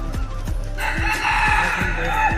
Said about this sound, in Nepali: अनि यहाँ एउटा लोकल भाले पनि रहेछ यहाँनिर बासिरहेको छ तपाईँ सुन्न सक्नुहुन्छ